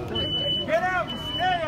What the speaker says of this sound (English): Do we hear a smoke detector? Yes.